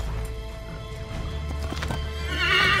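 A horse in Assassin's Creed 3 gallops with rapid clip-clop hoofbeats and a sharp whinny, mixed over dramatic game music.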